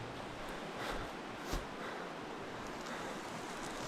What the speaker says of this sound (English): Just come out into the river